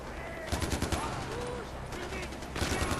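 Rapid bursts of automatic gunfire in the first-person shooter Far Cry 4, sharp dense rattles in two volleys with a brief lull between, loud and close, while a player talks.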